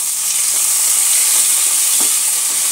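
Chopped tomato sizzles steadily in a frying pan over a medium gas flame, a constant close frying hiss with no talking.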